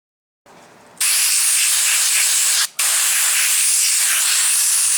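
A siphon-fed sandblasting kit starts with a soft hiss, then jumps to a loud, steady high-pitched blast of air and grit. One brief cut-out comes about two seconds in before the blasting resumes, with no voices.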